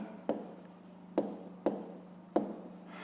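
A math solution being written by hand, a pen tapping and scratching across paper in four distinct marks separated by soft, quiet strokes, over a steady low hum, with no speech.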